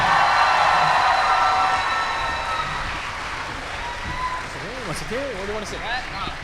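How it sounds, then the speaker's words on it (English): A studio audience applauds for an arriving guest on a talk show, loud clapping at first that gradually fades as voices begin speaking. "please give a big round of applause to Mr. Jack Sena."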